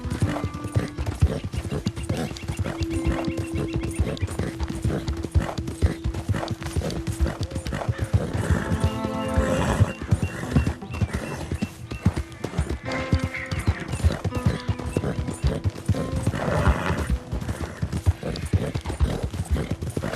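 A horse gallops in Red Dead Redemption 2, steady rapid hoofbeats throughout with a few neighs and whinnies rising over them, close and loud, with no talk.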